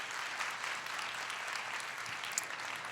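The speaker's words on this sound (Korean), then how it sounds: "다시 한번 우리 큰 박수로 여러분 격려해 주십시오" Church congregation at a Sunday worship service clapping in encouragement, a steady wash of many hands heard faintly from a distance with no voices over it.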